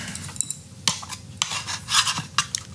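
A cooked chimichurri steak is lifted out of a metal Tovala meal tray, with a few sharp scraping clinks and rattles of utensil against the tray, close and brief, with no voices.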